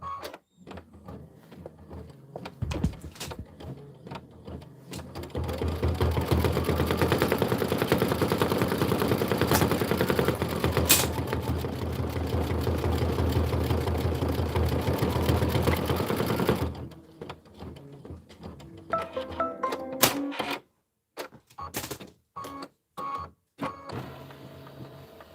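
An embroidery machine sews a doorknob fill on a winter-themed quilt block, with about ten seconds of steady, fast, close stitching rattle, then stopping into scattered clicks and handling noises.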